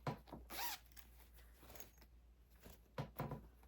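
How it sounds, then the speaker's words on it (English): A zipper is pulled in several quick, raspy bursts, close and fairly quiet, with brief pauses between pulls and no talking. "So we have like a little zipper bag."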